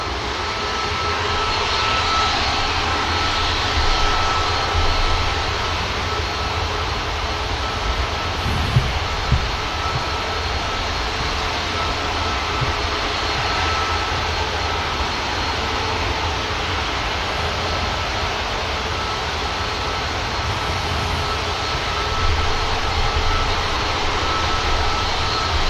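Jet aircraft engines at Manchester Airport give a constant, rumbling roar that continues at an even level, with slight swells, across a long stretch with no talking.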